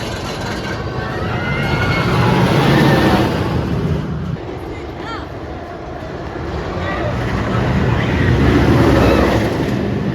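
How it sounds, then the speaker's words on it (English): Rumbling, rushing roar of the Steel Vengeance roller coaster at Cedar Point on a foggy November night, swelling and fading twice over a steady loud wash with faint voices mixed in. "just had an epic ride on Steel Vengeance"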